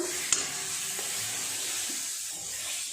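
Soybean curry frying in a pan is stirred with a few soft scrapes and a light clack over a steady, gentle sizzle, close and alone.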